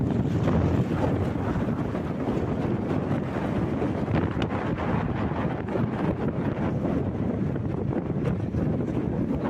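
Strong coastal wind blows steadily across the microphone by the sea near Methala village, a constant, close, buffeting roar with no voices.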